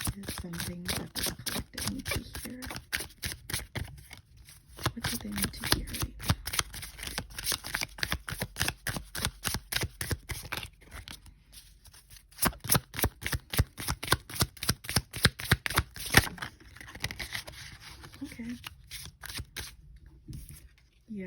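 Tarot cards are shuffled in rapid riffling clicks, several shuffles with brief pauses between them, close up, with occasional quiet talking.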